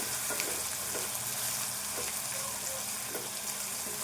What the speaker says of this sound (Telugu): ఈ అల్లం వెల్లిపాయ ఉల్లిపాయలు అన్నీ కూడా ఇట్లా వేపుకోవాలి